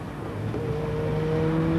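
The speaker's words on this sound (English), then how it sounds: "With the turbocharged Ford Sierra Cosworth" A turbocharged Ford Sierra Cosworth, chipped beyond its standard 204 horsepower, running at a seaside speed trial; a steady engine drone with rising tones building in loudness over two seconds, no voices.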